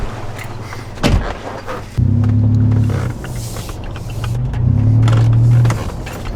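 A Toyota 4Runner just back from a flex plate repair drives off, its engine droning low and steady close by, swelling into two louder pulls of acceleration after a brief thump, with no talk.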